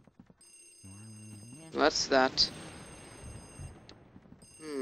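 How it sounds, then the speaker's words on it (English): A telephone in Luigi's Mansion rings in a few shrill, quick bursts over a quiet musical backdrop, and a voice briefly speaks just before the ringing. "Oh, phone's going crazy."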